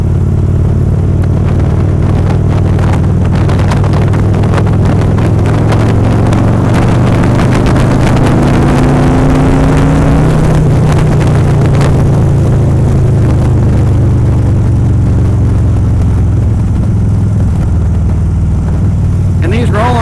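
A Harley-Davidson motorcycle engine pulls steadily through a smooth roll-on, its rumbling drone rising in pitch, with wind and road noise throughout.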